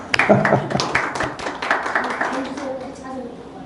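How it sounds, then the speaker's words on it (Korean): A group clapping to welcome someone back: a brief burst of claps from a small gathering, fading out after a couple of seconds as speech continues over it. "오래간만에 오셨으니까 우리 박수 한번 해야 되겠다."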